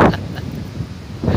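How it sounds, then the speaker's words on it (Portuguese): Gusty wind buffets the microphone in low, rumbling bursts, loudest at the start and end, with no voices. "só tá ventando muito"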